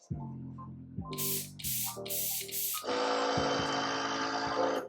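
A steady airbrush hiss that comes in short bursts, then settles into a continuous spray over a low, harmonic background tone.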